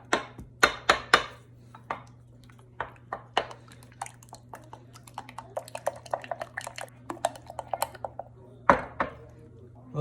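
Eggs and coconut oil being mixed for sourdough discard brownies, a run of quick clinks and taps of a utensil against a bowl with wet squishing, close by over a steady low hum.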